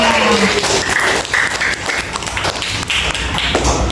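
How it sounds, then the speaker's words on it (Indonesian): Classroom group clapping in a teacher's lesson, a steady patter of many hands tapping close by, brief and fairly loud with no one talking over it. "Kita kasih tepuk tangan loh Vanessa"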